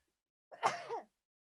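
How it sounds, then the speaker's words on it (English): A single short sneeze from a person at a tabletop game session, a quick close burst about half a second long, alone in otherwise quiet surroundings. "A nice sneeze dab"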